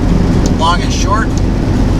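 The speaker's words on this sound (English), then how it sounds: "That's crazy how windy it is." Strong wind buffets a vehicle on a Kansas road trip, a heavy, constant low roar filling the whole moment, with a voice faintly audible beneath it.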